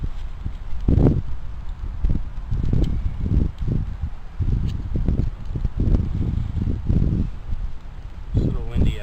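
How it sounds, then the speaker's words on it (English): Gusty wind buffets the microphone outdoors at a crawfish catch-and-cook campsite, rumbling in uneven low bursts throughout, with occasional rustling. "It's a little windy out here."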